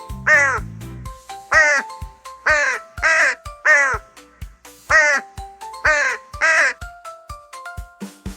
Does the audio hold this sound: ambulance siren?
no